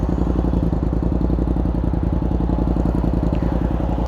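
A Yamaha MT-07 twin-cylinder motorcycle idles just after startup, a close, steady low burbling thrum with fine rhythmic pulses and no voices over it.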